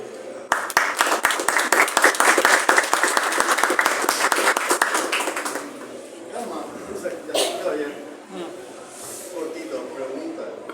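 An audience applauds at a book presentation for the anthology Entropía at the FIL 2024 book fair. Brisk, loud clapping from many hands lasts about five seconds, then fades out as a voice starts talking.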